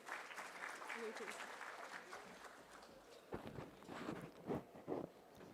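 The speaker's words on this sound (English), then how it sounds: "Please give him a huge round of applause." An audience at a law and peace symposium claps, a dense burst of applause early that thins into scattered, uneven claps and handling noise toward the end.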